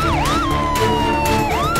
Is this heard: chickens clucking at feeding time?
no